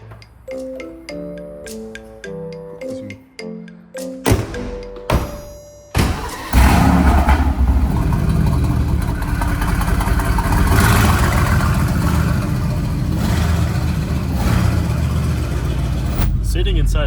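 A Mercedes-AMG GT R fires up with a sharp burst and then settles into a loud, rough idle and rumble, preceded by musical chimes and clicks, with people talking over it.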